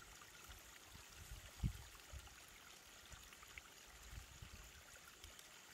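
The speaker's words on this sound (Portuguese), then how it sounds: "Só o barulhinho da água," Small stream flowing on a countryside outing with picnicking and fishing, a quiet steady trickle and gurgle of water with faint low thumps, with no talk.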